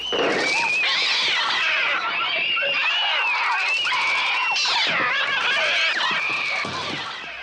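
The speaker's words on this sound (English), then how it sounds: "the sounds of the birds are birds, but they're also very cat-like" Shrill, cat-like screeching bird cries from an attack scene in a Hitchcock film swarm loudly and continuously, overlapping wails and squeals that rise and swoop without pause.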